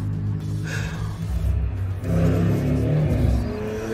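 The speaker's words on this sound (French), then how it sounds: "Là, il y a une voiture de course chez moi." Race car engine revving outside near a home, loud and continuous with rising and falling pitch, a brief dip midway before a stronger second burst.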